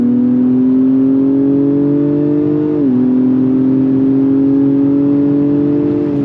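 A 2025 Acura TLX Type S engine drones steadily, its pitch rising slowly, then drops suddenly as the transmission downshifts before it climbs again under hard acceleration.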